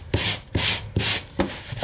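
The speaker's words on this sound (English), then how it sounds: "I'm going to sand just 3 sides" Sandpaper rubs briskly along the sides of a piece in four quick, even strokes, each a close scratchy swish with short gaps between.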